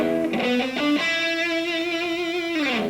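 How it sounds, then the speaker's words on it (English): An electric guitar plays through a Fender or Roland Cube amp on a heavy metal setting. A few quick picked notes give way to one long, loud, sustained distorted note that fades slightly at the end. "I've got the setting set on a heavy metal setting. Gives a lot of sustain and distortion"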